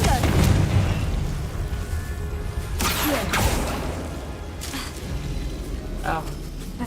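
Fiery spell blasts from Hogwarts Legacy burst out in a few sharp booms with whooshing tails, spaced a second or two apart over a steady game backdrop.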